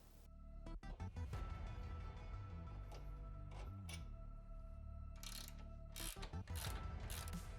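Tools working on the outer radius rod bolts of a Polaris UTV suspension, a close, steady mechanical whir and ratcheting with brief clicks and pauses between loud bursts.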